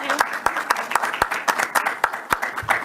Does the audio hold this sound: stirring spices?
no